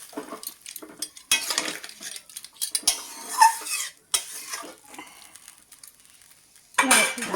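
A pot of drumstick, potato and poppy-seed curry gets a splash of water and its lid set back on, producing several loud bursts of metallic clatter and clinking with quiet gaps between, no voices.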